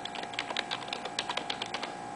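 Quick, close clicking of keys on a computer keyboard as an email address is entered, a light irregular patter of keystrokes with no voices.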